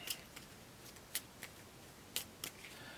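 Playing cards for the Cthulhu: Death May Die board game are shuffled in a quiet room, giving a few sharp, separate riffling snaps and clicks spaced irregularly over a few seconds.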